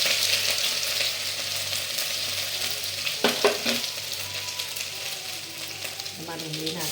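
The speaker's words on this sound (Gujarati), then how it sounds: "સૌથી પહેલાં 2 ચમચી હું લસણ નાખી દઉં છું." Two teaspoons of garlic go into two tablespoons of hot oil in a pan for pizza sauce, bringing a steady close sizzle with a few sharp clinks and stirring noises partway through.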